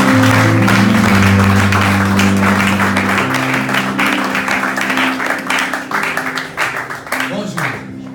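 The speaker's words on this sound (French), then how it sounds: "nous acclamons le Seigneur" A church congregation applauds and cheers during a French-language worship service, with loud sustained clapping, voices calling out, and a droning musical tone beneath, gradually easing off toward the end.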